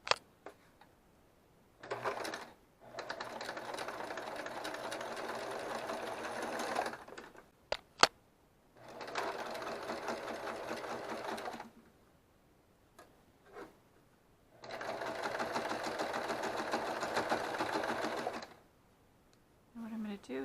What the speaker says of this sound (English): Sewing these two pieces together directly across.